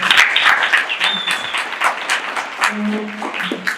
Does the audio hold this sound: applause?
yes